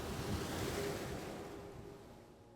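Ocean surf washes in as a steady broadband roar, loud and close at first and slowly easing over a few seconds, with a little wind noise and no voices.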